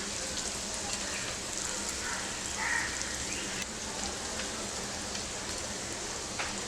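Paneer masala bites frying in a generous amount of oil in a pan, a steady, even sizzle and crackle that runs through the whole stretch at moderate level with no talking.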